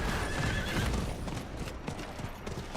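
A horse in the video game Diablo IV gallops with dense clip-clopping hoofbeats and a neigh near the start, moderately loud over a busy game background.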